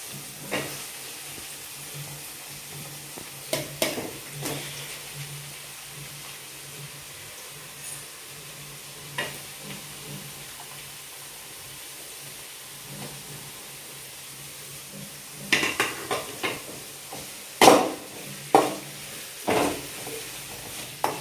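Mushrooms fry with ginger, garlic and green chilli in a pan, giving a steady close hiss and sizzle broken by clustered scrapes and knocks of stirring.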